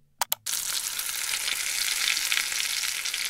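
Steak sizzles hard in a hot pan, opening with two quick sharp clicks before a dense, steady crackle of frying fat that stays loud and close to the end, with no voices.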